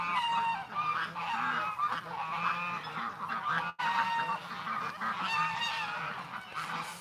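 A duck being chased gives loud, repeated honking quacks in quick succession, close by and almost continuous, with no speech.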